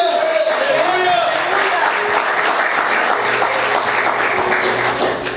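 A church congregation claps in a sustained, dense wave of applause that stays loud and even throughout, with a voice faintly audible through it at the start.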